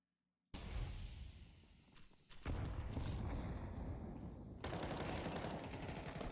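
Gunfire in the Counter-Strike map Anubis: a loud, close, continuous barrage of rapid shots and booms fills the whole stretch after a brief silent start, with no voices.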